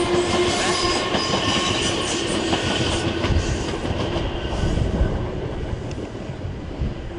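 Trains roll through Clapham Junction station with a dense rumbling clatter of wheels over the rails, loud and close, a continuous passing roar with brief metallic accents and no voices.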